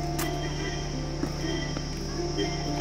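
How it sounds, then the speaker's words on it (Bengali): Crickets in a Darjeeling tea garden give a steady, high, continuous chirring over a faint background hum for a few seconds, with no talking. "ঝিঝির আওয়াজ শোনা যাচ্ছে।"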